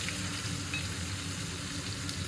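Chopped onion, dry red chili and whole cumin sizzling in hot oil in a pan for potol chingri, a steady close frying hiss with no talk.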